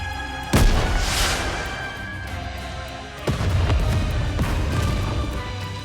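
A shell fired from a rocket launcher explodes over a snowfield in the Nikke video game, with two loud booming blasts that roll and rumble into a lingering noisy wash, no voices.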